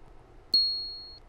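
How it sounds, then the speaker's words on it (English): A single short electronic beep sounds as a TV channel prompt, a clean high tone that rings briefly and fades over quiet background. "When you hear the beep, follow me to channel 23."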